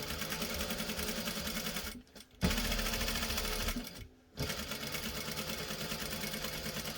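A sewing machine stitches a drawstring dice bag with a steady mechanical whirring hum. It pauses twice for brief stops and then resumes sewing at an even pace, close up and fairly quiet.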